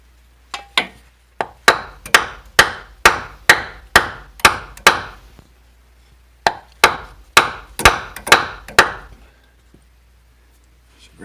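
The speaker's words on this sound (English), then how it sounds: "Grab a bigger hammer, I think." A ball peen hammer drives an axle seal into the axle of a 2010 Chevrolet Suburban 2500. Close, sharp metallic blows land in two rhythmic runs of about nine strikes each, separated by a short pause.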